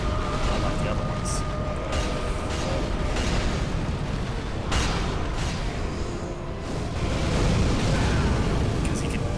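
A fire-breathing demon in Dark Souls 3 lets out a steady, roaring rush of flame that fills the clip without a break. The roar swells slightly near the end.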